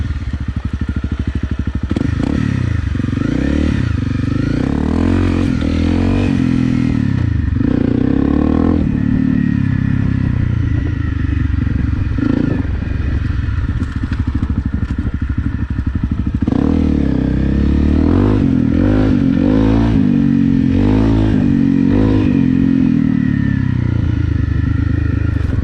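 Honda CRF 250 Rally motorcycle ridden steadily, its engine droning and revving continuously and loudly with shifting pitch, alongside wind rush and occasional clattering.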